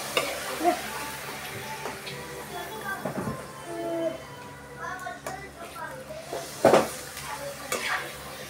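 Papad or chilli pakoda fries in a pan in a home kitchen, a soft steady sizzle with occasional stirring clatter and a brief sharper crackle, under family members chatting.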